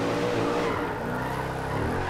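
Mercedes-Benz SLR in Forza Horizon 2 drifting, its tires squealing in a steady, continuous skid under the loud engine drone, with a slight dip and swell in level through the slide.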